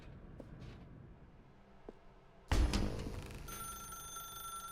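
An in-game telephone rings in The Stanley Parable, a sudden loud ring with a sustained bright tone that enters midway after a quiet stretch and keeps going to the end.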